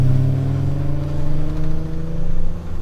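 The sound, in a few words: 1JZ-swapped big turbo Toyota Hilux setting off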